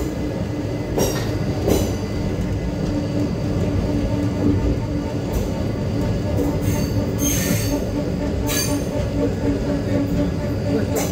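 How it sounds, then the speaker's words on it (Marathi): A train pulls in at platform 1 of Kanyakumari railway station, its wheels squealing in sharp bursts over a steady rolling rumble of the carriages, close and loud throughout. "प्लॅटफॉर्म नंबर 1 वर आपली ट्रेन आलेली आहे."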